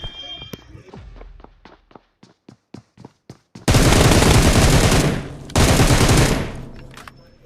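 Game gunfire in PUBG/BGMI on the Erangel map: a run of sharp, evenly spaced single shots, then two loud sustained bursts of automatic fire close up.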